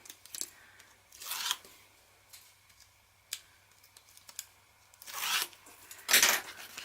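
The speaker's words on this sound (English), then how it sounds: "we'll need to trim that tiny little 1/4 inch from the edge here." Scissors trim a thin quarter-inch strip from the edge of paper for a handmade mini album, giving a few short, crisp snips in separate bursts that are close and fairly quiet, with no talking.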